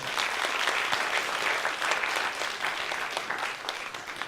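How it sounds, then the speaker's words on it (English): An audience gives a young authors' showcase steady, dense applause, many hands clapping continuously and evenly for several seconds, close and full, fading slightly at the end. "please give them a round of applause"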